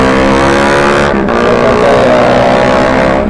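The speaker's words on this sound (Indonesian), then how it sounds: "Suara knalpotnya itu kok enak banget didengar ya." Car exhaust revving on a morning road between Kairagi and Airmadidi in Manado, a loud, close engine roar that dips briefly and then climbs again, with steady traffic noise around it.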